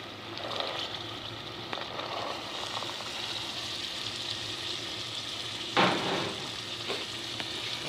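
Black chickpeas going into frying masala in a home kitchen, heard as a low continuous sizzle with light stirring and one sharp scrape or clatter near the end, with no voices.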